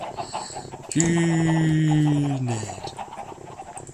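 Chickens clucking in the video game Minecraft, a single drawn-out, tonal squawk lasting under two seconds, fairly close and clear over a faint background bed with no talking.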